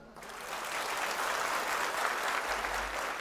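Crowd applauding at a political rally in Nashik, a dense, steady wash of clapping that holds loud and even from start to finish with no voices on top.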